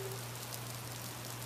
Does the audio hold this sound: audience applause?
no